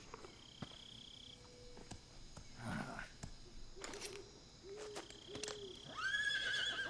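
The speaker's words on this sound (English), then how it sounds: "Horsey!" A horse in the video game Metal Gear Solid 3 whinnies amid game sound effects, with scattered clicks, tonal beeps and a rising neigh near the end over a quiet ambient bed.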